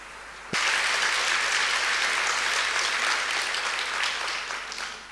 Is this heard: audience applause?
yes